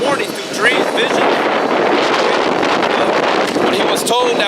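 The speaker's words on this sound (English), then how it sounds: "It's a little windy. Or not a little windy, but windy as hell today." Strong wind buffets an outdoor microphone on a very windy day, a loud continuous rumbling roar with gusty surges throughout, while someone talks over it.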